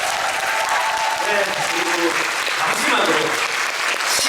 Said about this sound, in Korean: 박수 한번 드리시죠